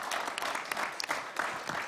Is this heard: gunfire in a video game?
no